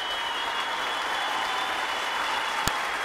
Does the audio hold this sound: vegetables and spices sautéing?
no